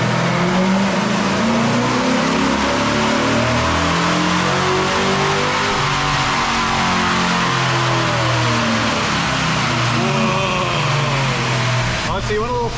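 A Hemi-powered Plymouth Superbird roars on a dyno during a heat soak run, its engine loud and close as the revs climb and sweep in a long, continuous pull before easing off at the end.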